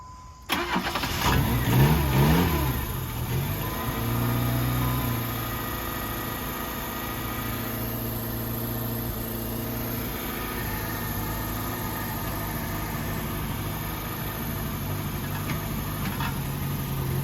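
A car engine starts and settles into a steady idle, with a low rumbling, rattly exhaust droning on close by.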